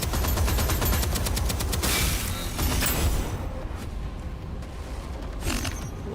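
Turret gunfire in the video game Deadzone Rogue, a rapid rattling volley of shots over dense, loud game noise, the rattle fading into a rumbling wash partway through.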